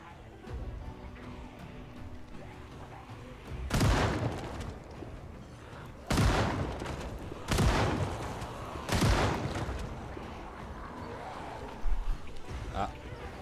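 Gunfire in the Project Zomboid video game, four separate loud shotgun-like blasts spaced a couple of seconds apart, each with a short decaying tail over quiet game ambience and a faint hum.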